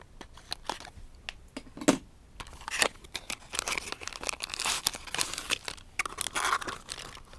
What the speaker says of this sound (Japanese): それでは開封していきます